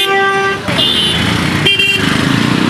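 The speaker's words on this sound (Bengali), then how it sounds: "এরা অশিক্ষিতের মতো এগুলো হর্ন বাজায়।" Car and motorcycle horns honk in a congested traffic jam, loud and close, with long sustained blasts overlapping and changing pitch, then a rapid stuttering toot over engine noise.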